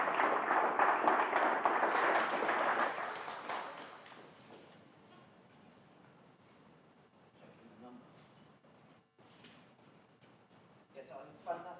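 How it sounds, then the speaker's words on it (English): Conference audience applauds as a speaker joins the stage, a broad wash of clapping in a large hall that is loudest at first and then fades into room noise, with a few stray sounds near the end. "let's give him a round of applause as he joins the stage"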